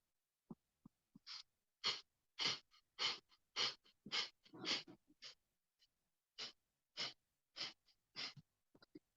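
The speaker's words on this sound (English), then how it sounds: "breath of fire, 1 minute" Breath of fire during a Kundalini yoga practice: a close, quiet series of sharp, forceful nasal exhalations. They come in fairly steady rapid bursts with a few brief pauses, and there is no talking.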